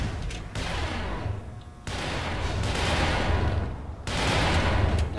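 Heavy booming blasts from grenade and shotgun fire in the video game Black Mesa, loud and close, several dense explosive bursts with echoing rumbling decays.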